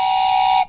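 A voice imitates a train whistle with one steady, piercing whistle-like tone that holds for under a second and then stops abruptly.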